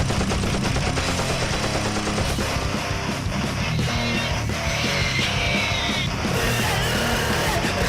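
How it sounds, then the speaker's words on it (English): Rapid machine gun fire in Warframe, a continuous loud rattling barrage of dense shots layered with busy game effects throughout, with no voices over it. "Machine gun!"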